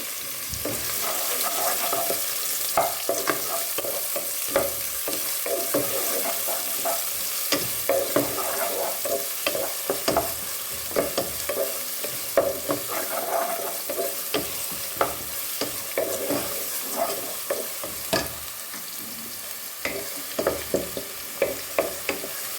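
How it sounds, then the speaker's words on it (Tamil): Two chopped onions fry in a pan for an eggplant thokku, a continuous sizzle broken by repeated scraping and clicking strokes as a spoon stirs them, with no voices. "அதுக்கப்புறம் வெங்காயம் போடும் ரெண்டு வெங்காயம் கட் பண்ணியிருக்கேன்"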